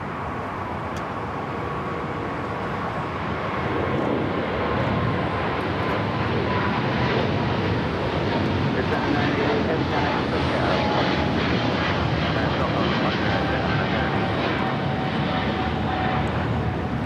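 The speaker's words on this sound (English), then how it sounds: "This is Air China 988 taking off to Beijing on the 777-300ER" An Air China Boeing 777-300ER rolls down runway 25 right at Los Angeles on takeoff for Beijing, a loud, close, continuous jet roar that swells after a few seconds and stays heavy, with indistinct voices faintly beneath.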